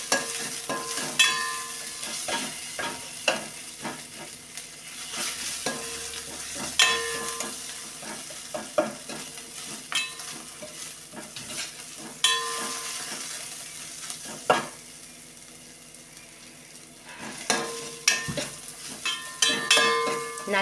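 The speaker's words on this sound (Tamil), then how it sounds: "இந்த வாசனை வர வரைக்கும் வதக்கிப்போம்." Tempering paste sautés in sesame oil with a soft, continuous sizzle, broken by repeated scraping and clinking stirring strokes against the pan, close up and without talk.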